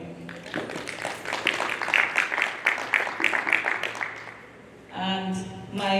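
Audience applause at an anniversary event, a dense wash of clapping swelling through the middle and fading out, with a voice cutting in near the end.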